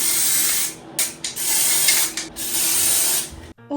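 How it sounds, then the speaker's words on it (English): Aerosol can of Mr. Super Clear spraying clear coat onto an art doll, loud steady hissing bursts with a few short breaks between sprays, close up and without talk. "I gave him a good spray down with Mr. Super Clear."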